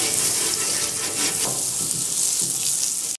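Blackened catfish fillets sizzle on a hot griddle, a dense, hissing crackle that stays loud and steady throughout before stopping abruptly.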